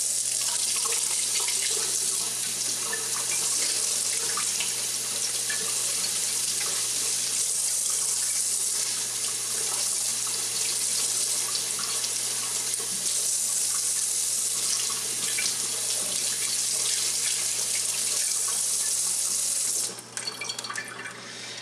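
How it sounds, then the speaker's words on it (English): A tap runs steadily to rinse leftover coffee grounds out of a reusable Keurig filter, a constant close rush of water that cuts off abruptly near the end. "Then basically you just have to rinse the rest out."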